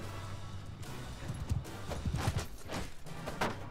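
Horse hooves clip-clop in a medieval battle in the video game Mount and Blade II: Bannerlord, a brief run of fairly quiet irregular hoofbeats over a noisy ambient background, with no talking.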